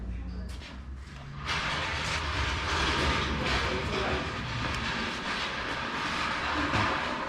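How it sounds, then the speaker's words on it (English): A Harbor Freight floor jack dragged across a garage floor beside a 2.0 turbo Toyota Soarer, giving a loud, continuous scraping rumble that builds after a brief quieter start and carries on steadily to the end. "The loudest thing in the world, dragging a jack."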